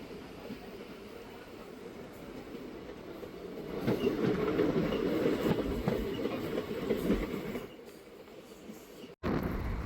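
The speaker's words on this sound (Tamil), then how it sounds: "ஆப்போசிட்டில் தெரிகிற ட்ரெயின் என்னென்னு பார்த்தீங்கன்னா மதுரையிலேருந்து ட்ரிவாண்ட்ரம் வரைக்கும் போகிற அம்ரிதா எக்ஸ்பிரஸுங்க." The Amrita Express passes a stopped intercity train, heard from on board as a low rolling rumble with faint clatter that swells midway, holds, then drops off near the end.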